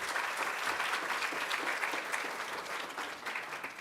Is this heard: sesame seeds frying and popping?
no